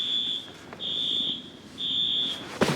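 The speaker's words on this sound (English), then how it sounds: "Where's that fire alarm coming from?" A fire alarm sounds in a cabin during a snowstorm, giving three long, shrill, evenly spaced beeps at moderate volume, ending with a brief clatter.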